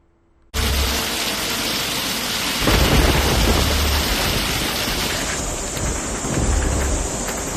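Heavy monsoon rain in India crashes in suddenly after a brief quiet, then holds as a dense, loud roar of downpour, with deep thunder rumbles swelling through it.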